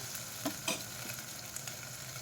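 Chopped tomato frying in masala over a low flame, a faint steady sizzle with a few soft stirring scrapes, close and alone.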